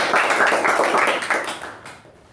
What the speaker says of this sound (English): I think she deserves a big, big round of applause